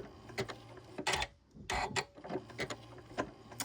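A domestic sewing machine runs a buttonhole stitch around an appliqué with the presser foot pressure reduced, whirring in short bursts that stop and restart with brief pauses for pivoting, heard close and quietly.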